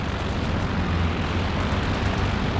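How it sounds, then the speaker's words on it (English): Rumbling explosions from an anti-tank attack run in a video game roll on without a break, a dense, loud blast of low booms and crackle. "Coming for one more anti-tank pass"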